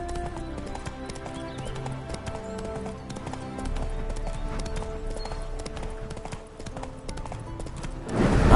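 Horse hooves clip-clop steadily in The Witcher 3: Wild Hunt, a continuous mid-distance trot under in-game music and ambience, with a louder rush of noise at the very end.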